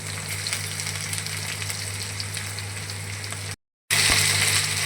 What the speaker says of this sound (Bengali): তারপর আলুগুলোকে দিয়ে দিতে হবে তারপর অ্যাড করব কেটে রাখা সিম